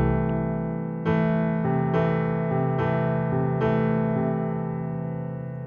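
Piano chords beginning on a C6 voicing. Sustained chords are struck about every second in an even, unhurried rhythm, ringing clearly and close with no voices over them.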